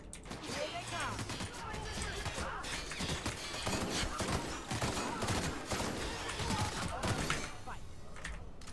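Sustained machine gun fire in The Outer Worlds, a dense rapid clatter of shots with impacts and mixed combat noise running the whole time, with a player's voice talking over it.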